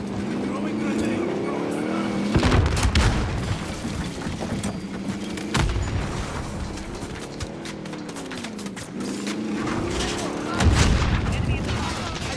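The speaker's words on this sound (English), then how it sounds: "Throwing grenade." Gunfire, vehicle noise and booming blasts from the Modern Warfare video game, including a thrown grenade, repeat in loud bursts over a constant engine-like hum, with in-game voice callouts.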